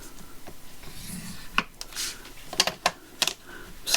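A scoring tool scrapes along a paper cover in a mixed media project, giving short rasping strokes and taps with quiet rubbing between them, close and fairly soft.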